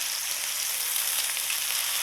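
A hamburger patty fries in oil with a steady, dense, close sizzle that holds constant and loud without pause.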